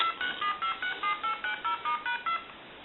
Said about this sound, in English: I'm going to go ahead and hang up, and I'm going to hit redial.